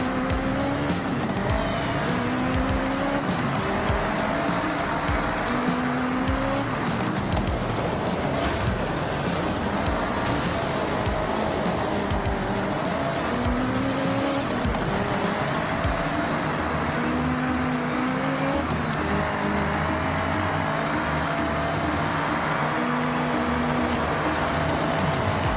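Racing car engine in the video game Forza 6, a loud, continuous revving drone that climbs and drops through repeated gear shifts, with tire squeals and skidding, running unbroken throughout.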